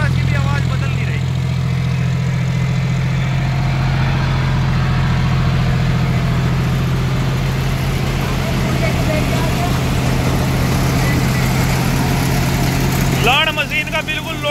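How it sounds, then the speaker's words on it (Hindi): A tractor engine runs steadily while driving a machine under load, a constant low, throbbing drone that stays even throughout, with someone talking over it. "और ट्रैक्टर में जरा सी भी आवाज बदल नहीं रही"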